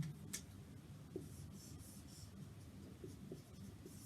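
A marker or chalk writing out a math problem on a board during a Grade 10 arithmetic progression lesson, faint, close strokes and soft taps in short bursts against a quiet background hiss, with no talking.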